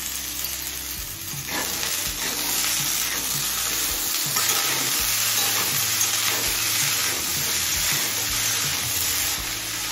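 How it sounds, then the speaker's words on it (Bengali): Cauliflower florets and green peas sauté in a hot pan with a loud, continuous sizzle, accompanied by stirring scrapes and clatter throughout. "ফুলকপি আর মটরশুঁটি দিয়ে আরো 3-4 মিনিট কষিয়ে নিয়েছি।"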